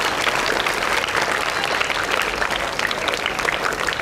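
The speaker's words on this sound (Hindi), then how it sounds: "एक बार ज़ोरदार तालियां अपने लिए बजा दें।" Loud, dense applause from the audience of a career-counseling session, an unbroken roar of many clapping hands at close range that stays level throughout.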